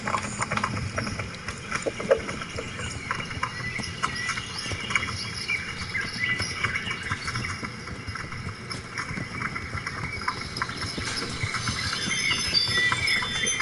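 Horse hooves clop steadily along a dirt path in the medieval video game Kingdom Come Deliverance, a continuous rhythmic gait under a busy layer of game ambience.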